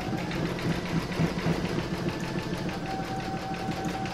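A domestic embroidery machine works a satin stitch around a circle on an in-the-hoop table topper, giving a steady close mechanical whir with a rapid repetitive needle beat throughout, no voices.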